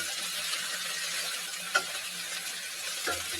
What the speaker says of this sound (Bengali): এবার নাড়তে থাকি।